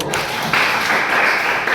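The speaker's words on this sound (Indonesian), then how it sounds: "tepuk tangan dulu" A school classroom audience claps together in a short burst of applause, close and fairly loud, with a voice faintly beneath it.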